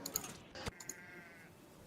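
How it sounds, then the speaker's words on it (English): Sheep bleat inside a zombie-survival video game, one drawn-out bleat amid soft clicks and small in-game thuds, fairly quiet, with no one talking. "Evil sheep."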